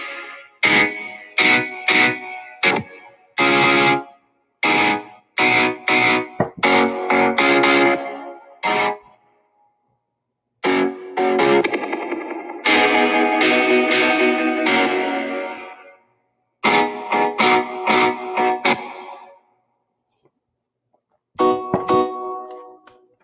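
Electric guitar track played back through changing effects such as distortion and chorus, heard as loud bursts of chopped and sustained chords separated by short silences, with no talking over it.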